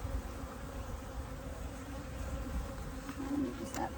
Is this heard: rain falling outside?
no